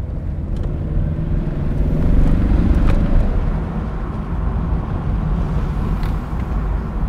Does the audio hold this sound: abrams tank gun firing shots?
no